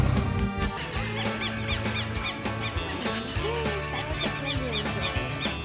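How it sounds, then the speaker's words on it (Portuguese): Birds honking and calling at the ocean coast while fishing at Itapoá, repeated goose-like calls in a busy chorus over a steady low engine hum and background noise. "Olha que coisa mais linda, os pássaros."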